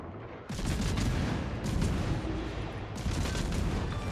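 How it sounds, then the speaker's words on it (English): Naval gunfire from warship guns in the World of Warships game, heavy booming salvos striking twice in quick succession with rumbling tails, loud and close, no talk over them. "Look, his guns, they're turning towards me."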